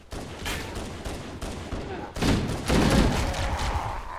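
Gunfire in Halo: Combat Evolved as a Banshee aircraft shoots at the player: rapid, dense bursts of blasts with a heavier volley partway through, loud and close amid game noise.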